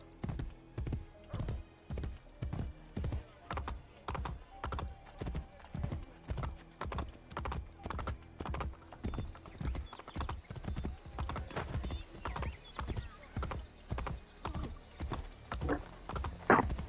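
Rhythmic clip-clop of horse hooves at a steady trot in the video game Assassin's Creed Brotherhood, evenly spaced and fairly loud, with faint background tones.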